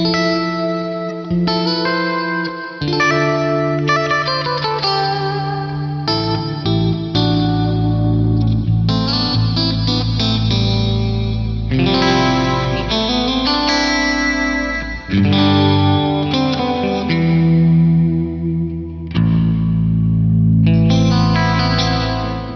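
Sustained electric guitar chords through a Crazy Tube Circuits Splash reverb pedal in its Lush mode bloom into a wide, lush reverb wash, notes overlapping and swelling into a dense shimmering pad that never fully decays.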